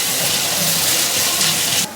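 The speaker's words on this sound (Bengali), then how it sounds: "তো এখন এখানে পেঁয়াজ ভাজা চলছে।" Onions fry in a pan for a chicken dish, giving a continuous close hiss and sizzle that holds steady before cutting off abruptly at the end.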